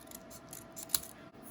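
A brief snip of scissors cutting a paper craft piece for a Halloween project, close and quiet, with one sharp cut near the middle.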